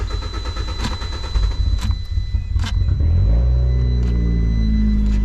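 Fiat 500 Abarth being run on vodka: a few sharp cranking bursts, then the engine catches at about three seconds and settles into a loud, steady, close idle.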